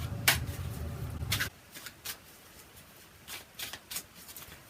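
Tarot cards are shuffled by hand: a quick riffle at the start, then a few soft, brief card shuffles in a quiet room.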